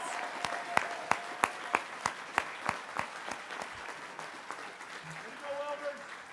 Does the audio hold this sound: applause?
yes